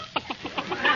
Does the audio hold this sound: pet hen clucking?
yes